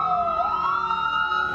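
Fire station siren sounding at noon, a steady loud wailing tone that rises slowly in pitch and holds, heard alone.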